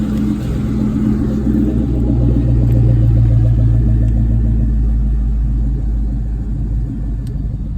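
A 1999 Mustang SVT Cobra engine with aftermarket exhaust pipes idles and revs with a deep, throaty rumble, loud and close, the exhaust note steady with slight rises in pitch.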